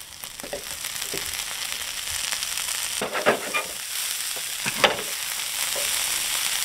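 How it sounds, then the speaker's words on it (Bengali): Prawns fry in a pan in a Bengali kitchen with a close, continuous sizzle, broken by a few sharper scraping stirs midway and near the end, and no talking. "তারপর কিছু চিংড়ি মাছ দিয়ে দিচ্ছি।"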